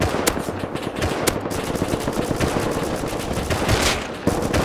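Rapid bursts of automatic gunfire from the video game Rust crackle nonstop with sharp single shots mixed in, dense and loud throughout, with no speech.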